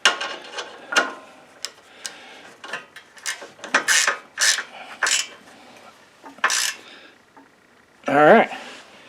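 A bolt on a Craftsman YS4500 lawn tractor exhaust is tightened with a 3/8 socket: a series of short raspy ratcheting bursts, close and fairly quiet, separated by pauses, ending in a louder clunk.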